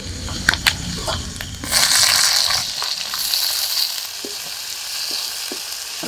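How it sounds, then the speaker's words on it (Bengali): Garlic paste and chopped onion fry in a pan with a loud, steady sizzle that swells sharply as the onion goes in, with a few stirring scrapes and clicks over the hiss. "এবার দিয়ে দেবো রসুন বাটা রসুনটাকে একটু ভালো করে ভেজে নিয়েছি এবার দিয়ে দেবো পেঁয়াজ কুচি"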